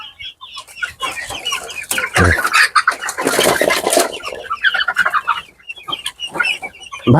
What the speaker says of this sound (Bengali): এটা হচ্ছে ভাইয়ের দেশি মুরগি না